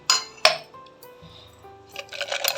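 Ice cubes knock against a glass tumbler of chilled thandai, with two sharp, bright clinks up front, quieter tinkling after, then a busy rattle of stirring ice toward the end.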